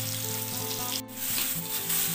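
Ginger garlic paste sizzling loudly in hot oil, a steady close crackle with a brief dip partway through, heard alone without talk.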